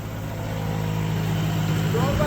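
A car engine idles steadily at the exhaust pipe, a low even hum with a faint rising whine near the end, while a person talks over it during a flue gas measurement.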